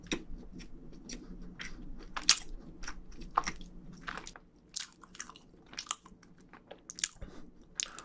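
Someone eats a scone spread with jam, with close, moist chewing and small crunchy bites in an irregular rhythm, loud near the microphone and without any talking.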